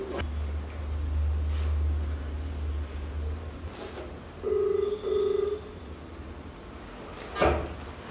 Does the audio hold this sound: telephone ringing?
yes